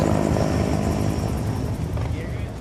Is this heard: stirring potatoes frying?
no